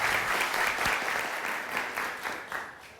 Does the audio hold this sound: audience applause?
yes